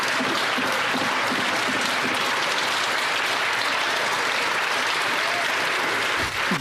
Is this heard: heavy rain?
no